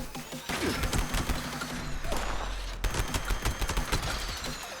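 A single-barrel shotgun fires in the video game Fallout 76 amid dense combat, with booming shots, crashes and clattering impacts continuing throughout at high volume.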